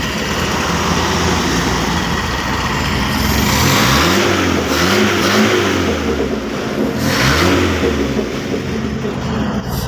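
Small engine with a carburetor being repaired, running loudly and steadily and then revved twice in rising-and-falling sweeps, close up and with no talk.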